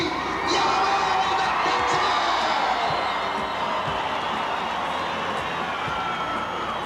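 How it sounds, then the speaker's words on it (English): A tractor pull crowd roars, cheers and claps for the night's winner, a loud, continuous swell of shouting, whoops and clapping with some nearby thumps mixed in. "let's give a good round of applause to our winner tonight at 221 feet"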